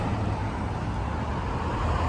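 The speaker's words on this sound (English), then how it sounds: "there is a lot of road traffic over here" Steady road traffic roars past on Pacific Coast Highway beside an outdoor vintage surfboard swap meet, a continuous low rumble of cars and engines with no speech.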